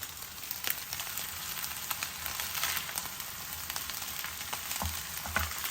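Rice for egg fried rice frying in a pan, a steady close sizzle with a few light scrapes and knocks from stirring.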